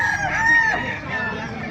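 A green-legged rooster crows loudly nearby at a market in Bocaue, Philippines, one long drawn-out call with a rising then falling tone.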